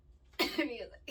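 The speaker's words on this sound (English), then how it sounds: "Sorry, I keep coughing." A man gives a single short, throaty cough, close and fairly quiet, during a casual indoor podcast-style chat, followed by a brief catch of voice at the end.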